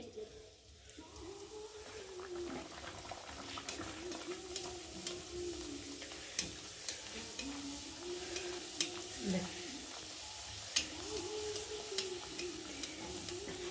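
Steady sizzling of green pea kachori frying in hot oil in a wok, with scattered clicks of a utensil and a low voice murmuring faintly in the background.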